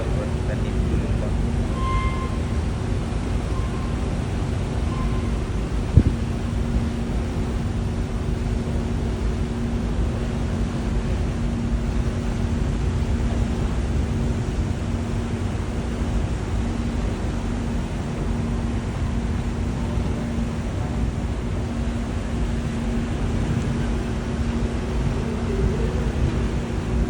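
A ship's engine runs steadily while the vessel sails out of Katakolon port in Greece, a constant low hum with a faint tonal drone, continuous and unchanging throughout.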